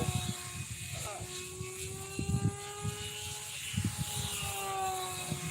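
Control line model airplane engine at an F2B stunt contest in Dayton, a thin high buzzing whine that rises and falls steadily from a distance, with people talking nearby over it.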